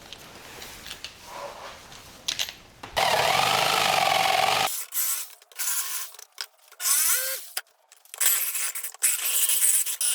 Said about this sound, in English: I'm going to go ahead and plug in my jigsaw, and then I'm going to go ahead and cut these shapes out.